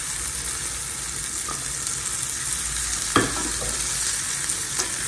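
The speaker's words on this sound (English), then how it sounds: "at this stage you can add vermicelli to it because the vermicelli still needs to cook" Vermicelli and vegetables frying in a pan in a home kitchen, a steady close sizzle with occasional stirring scrapes of a utensil against the pan, no talking.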